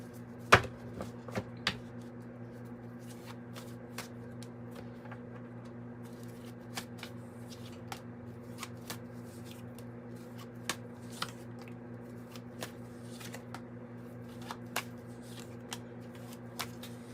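Druid Craft Tarot cards are shuffled close by in a quiet room, with a string of crisp riffles and soft slaps spaced irregularly over a steady low hum, and no talking.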